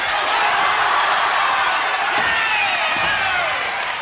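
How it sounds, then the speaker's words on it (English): A packed wrestling crowd fills the hall with a steady, loud roar of voices and cheering that stays constant throughout, with no clear single voice standing out. "And this crowd absolutely packed, not a seat to be had."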